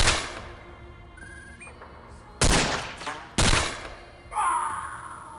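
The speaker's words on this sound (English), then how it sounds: "So their rockets are smaller, but capable of rapid fire." Rapid-fire alien rockets in the XCOM video game: a few loud blasts with rushing tails follow a brief ringing electronic tone, then a sustained whooshing burst at the end.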